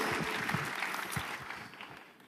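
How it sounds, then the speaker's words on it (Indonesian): Applause from a church congregation at an evening prayer service for worship leaders, singers and musicians, a dense steady clapping that fills the room and slowly tapers off toward the end. "Boleh tepuk tangannya di extend buat para worship leader, singers, dan musicians"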